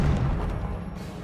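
Incendio fire spell blasting in Hogwarts Legacy, a loud rumbling whoosh that starts strongest and slowly fades, packed with deep booming energy.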